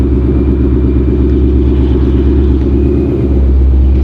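Supercharged, boosted Audi S4 engine roaring steadily at high load, a loud, dense, continuous rumble with a slight dip near the end, no voices.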